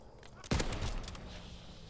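A single sharp, loud gunshot crack from Call of Duty WW2, striking mid-clip with a short decaying tail over quiet background.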